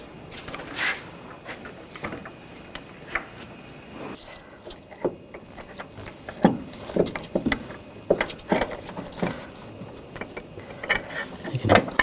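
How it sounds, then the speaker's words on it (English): A floor jack being pumped up under a 2013-2022 Buick Encore in a workshop, with irregular ratcheting clicks and metallic clunks that grow more frequent toward the end. "We're going to have to raise up on the floor jack."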